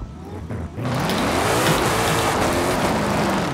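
A Ford Mustang Shelby GT500 in Forza Horizon 5 drifts into a left turn, its engine roaring up loud and close with screeching tires after a brief quieter lead-in, sustained to the end.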